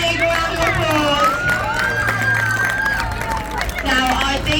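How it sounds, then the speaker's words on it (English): An audience at Blackpool Zoo applauds and cheers after a sea lion training demonstration, a steady crowd clamour lasting several seconds with shouting and chatter mixed in. "Can we give them all a big round of applause?"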